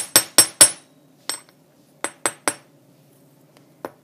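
Sharp metallic hammer strikes on sterling silver wire ring out close, three quick blows, a pause, then a few more spaced taps, with silence between.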